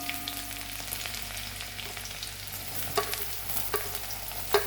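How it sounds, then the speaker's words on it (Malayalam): Onions sizzle and crackle as they fry in oil with popped mustard seeds, with soft stirring scrapes and occasional louder clicks of a spoon against the pan, steady and close with no talking. "ഉള്ളി നമുക്ക് ഇളക്കി കൊടുക്കണം"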